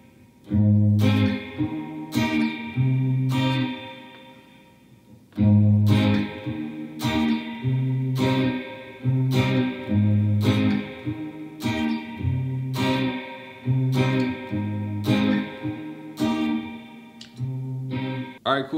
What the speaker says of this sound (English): that was so I could play that lick on the Les Paul there